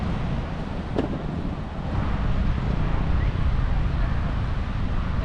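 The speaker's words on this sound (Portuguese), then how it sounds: "Cabo Frio é conhecida pela sua ventania" Strong wind at a beach in Cabo Frio, Brazil, roars and buffets the microphone in a continuous low rumble that swells slightly partway through, loud and close, with no clear speech.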